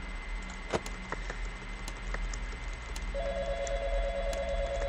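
A telephone rings faintly in the Five Nights at Freddy's Gmod game, a thin electronic tone entering partway through over a steady background hum with scattered small clicks.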